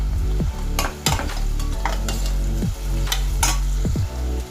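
Sliced onions and crushed garlic sautéing in a pan with salt for a mutton roast, loud close sizzling broken by repeated scraping stirs of a spoon against the pan, no talking.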